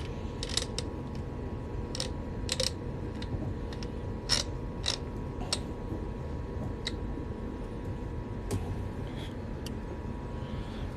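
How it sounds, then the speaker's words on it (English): A coin ring tool is twisted down onto a coin with quiet creaking and gear-like clicks spread over a steady low background, close but soft. "as I twist this down, it's going to auto center"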